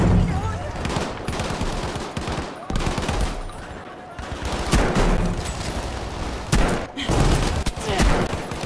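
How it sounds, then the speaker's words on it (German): Dense Battlefield V multiplayer gunfire, rapid automatic bursts and shots loud and close, nearly continuous with brief gaps and no talk. "Ich schieße dich auf dich ein."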